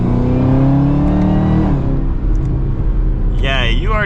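Close engine roar from a Chevrolet Camaro ZL1 with a 10-speed automatic as it accelerates, the pitch climbing and then dropping at a shift, followed by a steady rumble with a voice speaking near the end.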